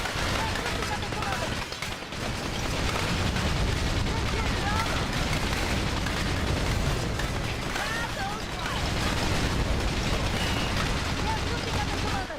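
Machine gun fire in the Battalion Wars video game battle, dense continuous rattling bursts mixed with booming explosions, loud and sustained throughout with other game noise.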